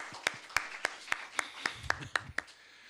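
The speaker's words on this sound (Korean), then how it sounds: "우리 잠시 불편하지 않으시면 자리에서 일어서시면 우리 큰 박수로 한번 환영해 주시고 축복해 주시면 좋겠습니다" A small group claps in welcome for church members during a Sunday worship service, about ten crisp, evenly spaced claps in a steady rhythm, close and fairly quiet, with faint murmuring underneath.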